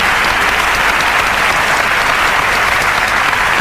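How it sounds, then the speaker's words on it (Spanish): Dense, steady applause from a large studio audience at a 1998 Spanish TV Eurovision programme, loud and continuous throughout with no speech on top. "Y yo quiero un aplauso para todos ellos"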